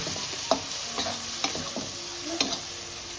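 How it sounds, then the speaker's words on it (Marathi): Spice masala sautéing in a pan, with a steady low sizzle broken by several sharp scrapes and stirring knocks of a spoon at irregular intervals, close and fairly quiet with no talking. "मसाला परतून घेऊ"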